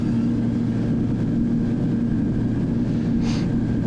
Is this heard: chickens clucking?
no